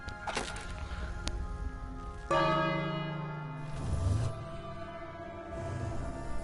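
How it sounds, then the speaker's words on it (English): A dinner bell rings in the King's Quest video game, one loud resonant strike after a couple of lighter taps, its tone ringing out and slowly decaying. "Ring the bell for dinner?"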